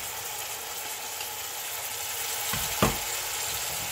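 Marinated chicken for chicken biryani frying in a pan with masala, a steady close hiss and sizzle with a brief scrape or stir near the end.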